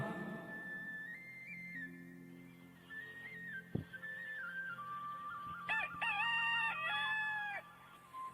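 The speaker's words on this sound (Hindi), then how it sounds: "तुरंत मुर्ग ने बांग दी" A rooster crows, its long rising-and-falling call ringing out clearly in the latter half of the stretch over a quiet background, with a sharp click just before it.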